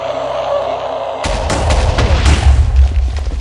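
A sudden burst of loud, booming explosions in a moon dungeon in Minecraft modpack Sim-u-Kraft Reloaded after a quieter start, with rapid overlapping blasts and crackling continuing to the end.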